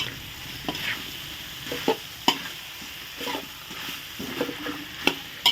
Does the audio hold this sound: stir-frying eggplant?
yes